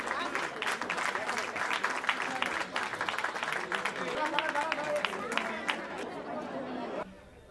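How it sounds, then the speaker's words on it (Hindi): Audience applause at a Kolkata Sahu Samaj gathering during the Gangasagar Mela, a dense crowd clapping steadily with chatter mixed in for about seven seconds before it cuts off abruptly. "एक जोरदार तालियां होनी चाहिए।"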